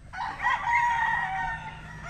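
A dark-legged game fowl rooster at a game farm crows once, a single loud, close cock-a-doodle-doo lasting about two seconds.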